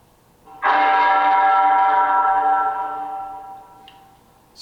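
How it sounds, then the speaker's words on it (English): A single deep bell toll rings out in a stage production of A Christmas Carol, struck once with a bright attack and then a long, fading hum in an otherwise quiet room. "Scrooge woke to the sound of a bell, now tolling a melancholy 1."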